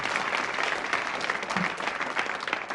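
Studio audience applause for contestants on a TV game show, a dense continuous roar of clapping, fairly distant and steady throughout.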